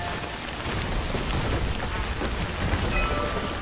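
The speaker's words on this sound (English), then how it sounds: "Holy hell, it's raining so much down here in the lowlands." Heavy rain pours steadily across the lowlands in the Death Stranding video game, a dense, even hiss with low rumbling underneath and no voices.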